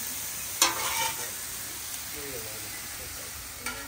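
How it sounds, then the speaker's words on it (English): Steaks and onions sizzle on a Blackstone griddle for hibachi, a broad steady hiss with two sharp spatula scrapes or clanks, heard up close with no talking. "Okay, the steaks are cooking, and I'm going to go ahead and pull the onions."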